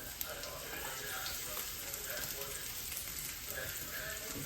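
Garlic and onion fry in a pan for cheesy garlic fettuccine, making a soft, even sizzle that holds steady throughout at low volume.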